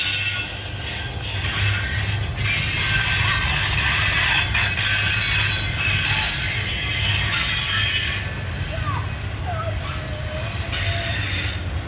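SD70ACC locomotive #1833 leads train 222 north through Chamblee with locomotives 4383 and GP38-2 #5345. A loud, close, continuous rumble of passing railcars is heard, with squealing wheels and clickety-clack over the rails throughout.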